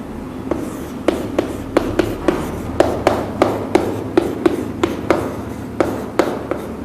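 Chalk or marker writing on a classroom board, with steady, evenly spaced taps and strokes around two per second, close and clear and with no talking.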